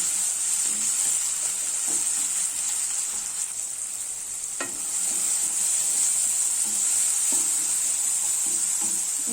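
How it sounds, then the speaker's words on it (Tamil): Onion and tomato sautéing in a pan for chicken gravy, a close, steady hissing sizzle with soft stirring scrapes at intervals and a sharper knock near the middle. "இப்போ இந்த வெங்காயம் தக்காளி நல்லா வதங்கிடுச்சு."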